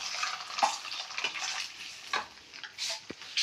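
An egg fries in a pan while a potato-and-egg curry is being cooked, giving a steady, close sizzle with soft crackles and occasional light scrapes throughout.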